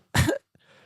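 A man imitates a dry, shallow, light, high-pitched cough, giving one short raspy burst and then a faint catch of breath. The sound is close and isolated, with silence around it.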